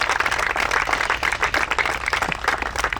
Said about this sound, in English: We'll give them a round of applause here.